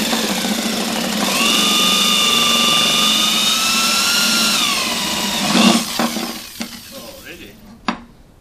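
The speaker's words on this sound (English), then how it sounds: "Just have to do some polishing here with a Dremel" A Dremel rotary tool polishing an underwater camcorder housing whines at a high, steady pitch, close and loud. The pitch drops briefly before the motor winds down, followed by a few handling clicks.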